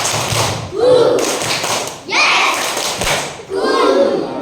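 A class of third-grade children claps a rhythmic classroom clap routine together, sharp bursts of claps and thumps in three quick groups, close and loud, with a voice calling out briefly.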